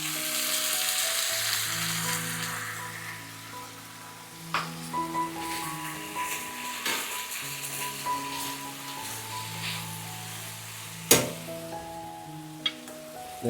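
Mongolian beef stir fry sauce hits a hot pan and sizzles steadily, a close frying hiss with occasional spatters and a few stirring knocks, while soft background music plays underneath.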